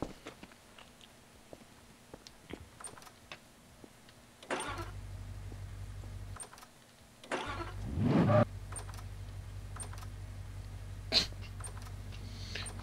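A car engine starts in the video game Garry's Mod, a low droning idle kicking in, cutting out briefly, then restarting and running steadily, with a few small clicks and taps around it.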